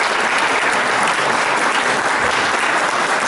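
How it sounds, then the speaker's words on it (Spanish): An audience at a Peruvian panel discussion breaks into loud, dense, continuous applause that holds steady throughout without any talking over it. "me sumo al aplauso a lo que acaba de decir Gustavo y José."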